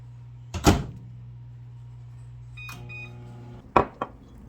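A microwave oven hums steadily, then a door clunks, a few beeps sound, and two more sharp clacks follow as the hum stops.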